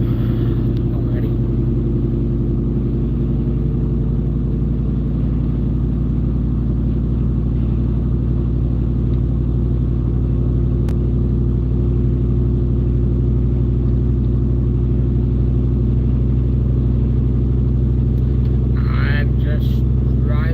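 Car driving toward a storm, its steady engine drone and heavy road rumble filling the cabin loudly and without a break, with someone talking over it now and then.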